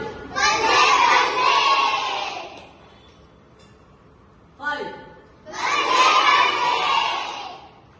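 A group of children at an International Yoga Day class shouts together loudly in two long bursts of several seconds each, with a short quieter call in between and an adult voice speaking during the pause.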